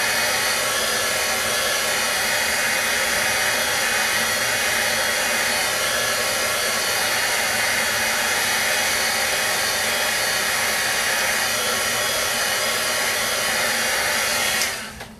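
A heat tool blows hot air steadily to set stamped ink, a loud, close, unbroken whoosh that runs for about fifteen seconds before cutting off abruptly at the end.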